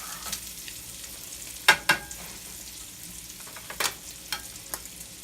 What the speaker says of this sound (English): It's not going to take long for butter to melt on a hot skillet.